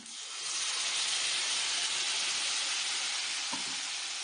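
Tomato paste hitting a hot pan with cumin, black pepper and ginger-garlic paste, a loud continuous hissing sizzle that swells within the first half second and holds steady, close up, with one faint clink near the end and no voices.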